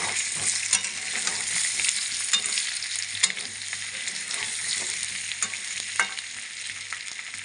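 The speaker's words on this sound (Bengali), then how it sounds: "আলুটা একটু ভাজা ভাজা হয়ে গেছে" Potato pieces fry in a pan for spicy aloo dum, a loud, close, steady sizzle broken by scattered clicks and scrapes of stirring, heard alone with no voices.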